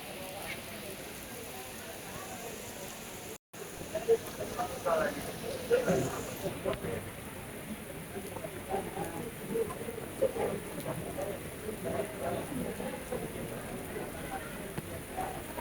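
Rain falls in the hills beside a bus stand, a steady patter on surfaces with a moment of quiet midway, while a voice talks over the wash of drops.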